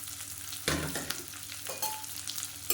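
Shallots and green chillies sauté in a pan, a sharp burst of sizzling as a spatula scrapes through, followed by a few quieter stirring strokes over a low fry.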